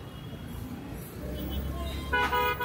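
Car horns honk over the steady rumble of engines in a jammed road near a company gate, with a sharp toot standing out near the end.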